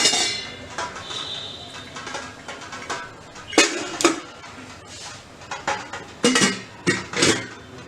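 An oiled metal plate being set into a steamer in a home kitchen, giving several clinks and clanks of metal on metal, some sharp and close, over a faint steady background hiss.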